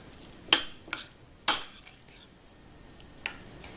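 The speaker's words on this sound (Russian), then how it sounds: "И смешиваем с майонезом. Все хорошо должны перемешать теперь до однородной массы." Crab stick filling being mixed with mayonnaise in a bowl, a few sharp spoon clinks and scrapes against the bowl at irregular intervals in a quiet kitchen.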